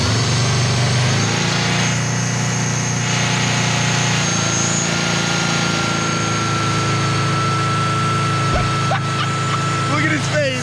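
A car engine that revs at 3,000 at idle and needs a mass airflow sensor, running loud with a constant high droning roar throughout, with brief voices over it near the end.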